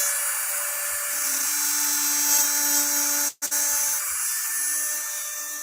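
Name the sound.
StewMac inlay routing tool cutting a guitar inlay, dentist-drill-like whine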